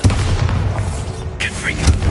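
Bombarda explosion spell cast in the video game Hogwarts Legacy: a dense, booming blast that sustains across the whole moment, with a sharper burst near the end, loud and close.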